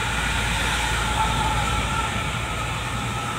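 Sinar Sari night bus running on a mountain road through Gunung Kendeng, its engine and exhaust a continuous broad roar with steady low rumble and hiss, loud and close throughout, without speech.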